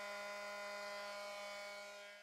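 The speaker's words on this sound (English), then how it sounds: "What I'm doing here is drilling a pilot hole through the piston rod." A drill bores a pilot hole through a steel piston rod for a model steam engine, producing a steady, faint tonal whine that tapers off at the end.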